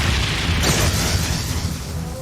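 The Brionac cannon firing in Trails of Cold Steel III, a heavy, sustained booming blast with a whooshing surge partway through, loud and continuous.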